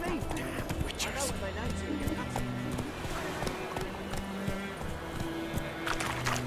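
Roach, a horse in The Witcher 3, gallops with steady rhythmic hoofbeats and clip-clop under ongoing speech and background music, close and continuous.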